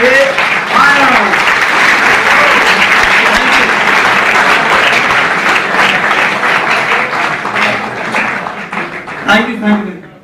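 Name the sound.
audience applause welcoming speaker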